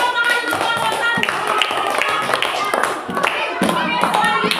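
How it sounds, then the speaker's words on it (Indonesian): A classroom gives applause for a student group, with loud, close claps from a small number of hands in an uneven rhythm and some voices mixed in. "Beri tepuk tangan untuk kelompok 1."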